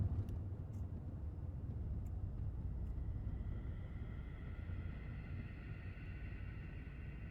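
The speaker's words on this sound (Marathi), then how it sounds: "आणि मागून जर आवाज येत असेल तुम्हाला गाड्यांचं तर" Road traffic on a street about ten feet away produces a steady, continuous low rumble and broadband hiss throughout, with no distinct passes standing out and no talking.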